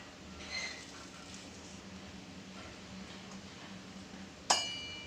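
A metal sieve loaded with steamed alu vadi rolls is set onto a kadhai holding water on a stove, landing with one sharp metallic clink near the end after a quiet stretch of faint kitchen noise.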